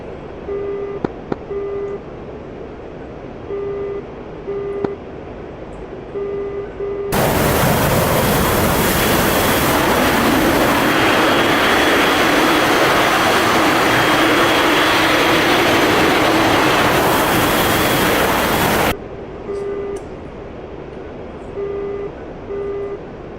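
Jet aircraft engines roar at full power on takeoff in the DCS flight simulator, a loud, dense, steady rush lasting about twelve seconds that breaks off abruptly. Quieter cockpit ambience with repeating tones comes before and after.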